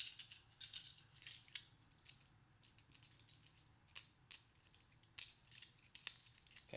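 Small tokens are shuffled in a cupped hand, giving bursts of light clicking and clattering that come in uneven clusters with short gaps of near silence, close and fairly quiet.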